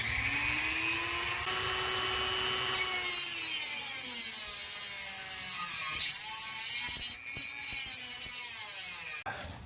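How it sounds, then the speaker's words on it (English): A small Dremel rotary tool cuts on the rear suspension of a 2013 Chevrolet Impala, a loud, steady high-pitched whine with a shifting pitch that runs nearly continuously before cutting off abruptly at the end. "I use a small Dremel tool, I think that's what it's called."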